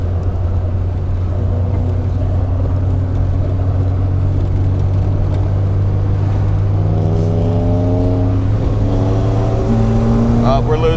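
A drift car drives slowly to warm its tires, its engine holding a loud steady drone with rising and falling tones as it revs, close and continuous throughout.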